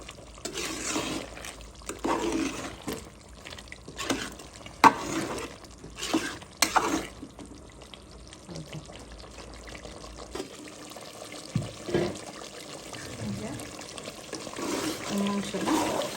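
Beef curry with potatoes stirred and braised in a pot, giving intermittent scraping and clattering bursts over a steady simmering hiss that grows quieter and smoother in the second half, with a voice heard at times.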